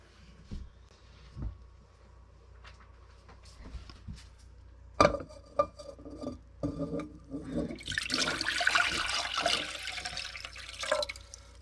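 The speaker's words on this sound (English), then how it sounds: "Vinegar will go into our little pot, little saucepan." Vinegar pours into a small saucepan, starting with scattered drips and clinks and then a steady splashing stream that grows louder toward the end.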